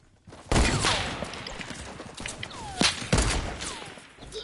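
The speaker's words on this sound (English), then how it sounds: "I hit someone with a freaking hunting rifle" Rifle gunfire in a video game: a loud hunting rifle shot cracks out near the start, followed by two more sharp reports around the three-second mark amid a busy game soundscape of thumps and clatter, with no talk.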